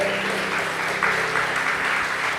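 A church congregation applauds during a bishop's sermon, a dense, steady wash of many hands clapping that holds at an even level throughout, with no voices rising above it.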